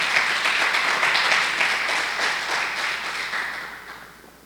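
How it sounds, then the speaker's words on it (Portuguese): A church congregation applauds in a steady, dense wash of clapping that holds for several seconds and then gradually fades out, with no one speaking over it. "Dá mais um aplauso ao Senhor aí."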